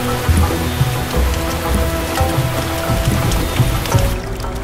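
Heavy, steady rain pattering loudly on surfaces nearby, with dense drops and a low rumbling undertone throughout.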